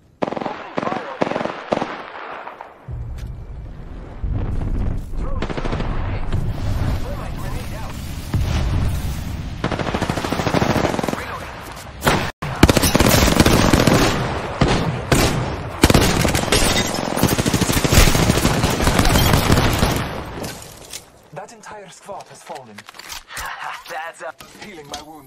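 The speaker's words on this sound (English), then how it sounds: "Opening fire over here." Automatic gunfire in the battle royale video game Apex Legends, with dense rapid bursts and explosive shots that run loud and nearly continuous through the middle, then thin out into scattered pops at the end.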